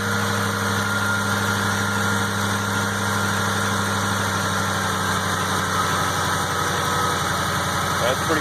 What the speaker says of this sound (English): Alright, start it.